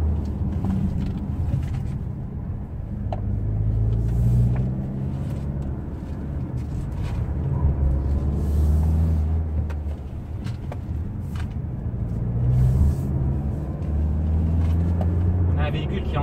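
A 2019 Mazda CX-5 SkyActiv-D 185 hp diesel with six-speed automatic cruises along a winding road, a soft cabin engine drone and road hum rising and easing gently beneath someone talking throughout.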